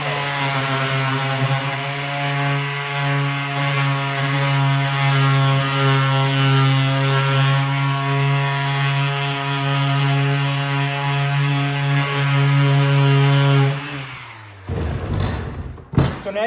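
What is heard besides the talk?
power sander sanding reclaimed barnwood board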